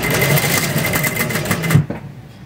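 A sewing machine runs in a steady fast whirring rattle, stitching along the fusing at a kurti neckline, loud and close, then stops abruptly near the end.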